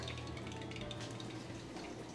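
Water poured into a beaker of cyanotype chemical solution, filled up toward 100 milliliters, giving a steady close trickling and splashing wash throughout.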